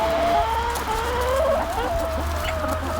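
Several chickens cluck and squawk close by inside a compost area, over a steady low hum, with no one talking.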